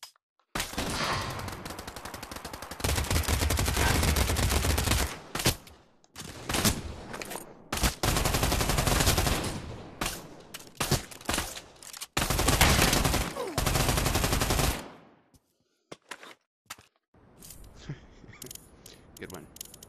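Gunfire in the VR shooter Pavlov VR, loud bursts of rapid automatic fire in long sustained volleys separated by brief gaps, ending in scattered lighter shots, with a voice talking at times.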